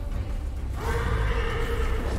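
A horse in a video game lets out a single loud, drawn-out whinny over low background noise.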